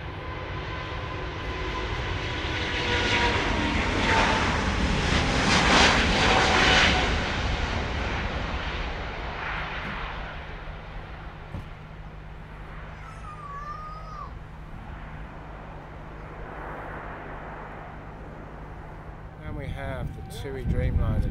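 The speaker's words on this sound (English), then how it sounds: "We've got Delta's Airbus A350." A Delta Airbus A350 airliner on the Amsterdam to Detroit route passes at Schiphol, a broad jet engine roar that builds to a peak then eases into a steady rumble, with faint voices and other sounds underneath.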